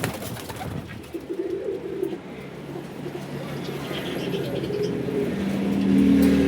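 Domestic pigeons kept for sale coo in a continuous low warble, a few rising more clearly toward the end, with faint traffic and a vehicle passing in the background.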